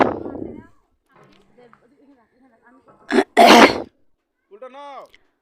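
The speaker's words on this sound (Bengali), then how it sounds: "খুব কাশি হচ্ছে" A woman who is unwell coughs and clears her throat in short, sharp bursts, one at the start and a harsher double cough midway, with faint voices and quiet gaps between.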